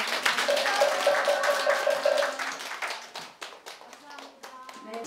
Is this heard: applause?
yes